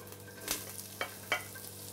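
Shallots cook in a pan for a Tarbais bean salad, giving a faint, soft sizzle broken by a few light stirring taps.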